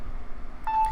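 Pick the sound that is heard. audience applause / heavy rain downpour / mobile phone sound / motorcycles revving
mobile phone sound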